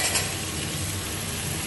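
Potatoes and chicken fry in a covered pan over low heat, giving a steady, close sizzle that runs evenly. A faint clink comes near the start, and no one speaks.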